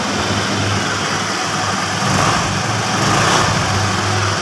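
A Honda Vario 110 scooter, started with its electric starter button during a repair, idles loudly and close by with a steady, slightly uneven low engine drone and no pauses.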